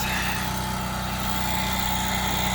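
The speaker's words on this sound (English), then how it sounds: "Having the generator and the chipping hammer definitely helps out." A generator engine runs at an outdoor planting site, giving a steady, loud mechanical drone with an even buzzing hum and no breaks or changes in pace.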